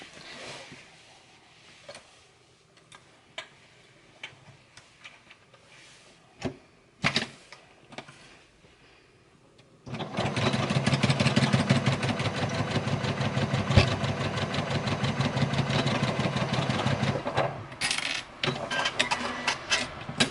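A sewing machine stitches a seam on a make-up bag, with scattered clicks and handling first, then a loud, fast, steady mechanical whirr that runs for about eight seconds before slowing.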